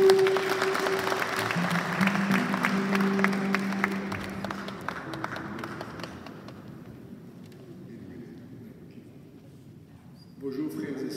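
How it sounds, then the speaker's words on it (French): Mourners at a funeral clap together, the applause steady at first and then gradually thinning and fading, with voices murmuring underneath before the room noise picks up again at the end. "on applaudit Papa."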